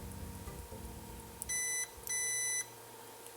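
Two steady electronic tones from a multimeter in continuity mode, each lasting under a second with a short gap between, sounding over a faint background hum during a retro game kit build.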